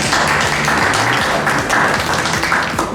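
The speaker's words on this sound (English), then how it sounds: "A round of applause for Paige and Cameron." Game show audience breaking into a round of applause, dense, loud clapping from many hands continuing throughout without pause.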